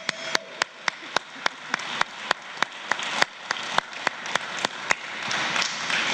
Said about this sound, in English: How about a big round of applause for our panelists?